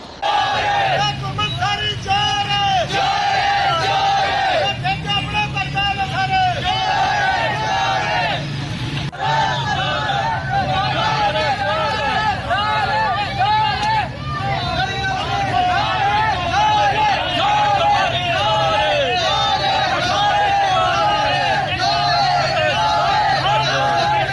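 A crowd of protesters against added taxes on electricity bills chants slogans in rhythmic unison near a roadside, loud and sustained throughout with faint traffic noise underneath.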